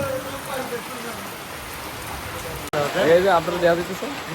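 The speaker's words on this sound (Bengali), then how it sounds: "আটকে গেছি বৃষ্টিতে আর সিদ্ধান্ত নিয়েছি বৃষ্টিতে ভিজে চলে যাবে" Steady rain patters throughout, with a person talking over the downpour in the second half.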